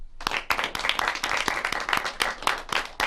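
Attendees at a community access television annual meeting clap, a moderate group of sharp, distinct hand claps in a loose, uneven rhythm.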